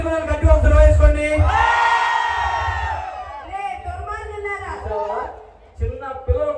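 Children in a crowd at an outdoor comedy show in Vizianagaram yell together in a long, loud, rising shout. Voices talk over the roar, and scattered cries follow.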